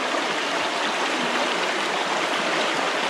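Cold stream water rushing along a forest hiking trail, a steady close broadband wash of flowing water with no pauses, heard alone.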